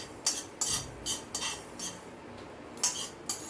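Black mustard seeds dry-frying in a wok, giving sharp intermittent crackles and pops in irregular bursts, close and fairly loud with no talking.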